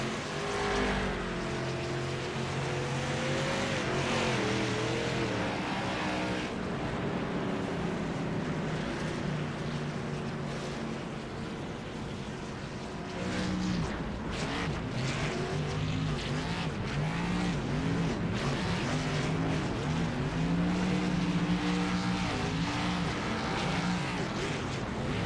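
Late model stock cars drag racing in a sim race, engines roaring loud and continuous with shifting pitch as several cars run close together.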